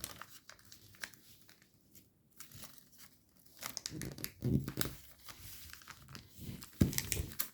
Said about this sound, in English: Next, you're going to petal fold these sides in